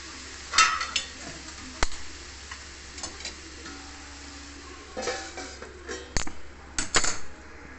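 A spoon scrapes and clinks in a pan of cauliflower curry with ginger and green chili, making scattered sharp taps and scrapes over a faint low background, with quiet gaps between them.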